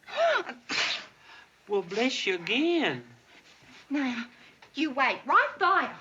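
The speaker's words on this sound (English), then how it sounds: "You're sneezing, but I'm not." Repeated sneezes from a man on a sitcom set, several sharp bursts spread through the stretch and mixed with bits of dialogue between two men.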